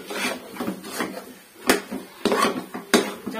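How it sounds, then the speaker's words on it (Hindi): A spoon scrapes and stirs jaggery and semolina halwa around a pan, giving repeated rubbing, knocking strokes of moderate loudness with a few sharper clacks against the metal, and no talking. "चम्मच मुसलसल चलाते रहना"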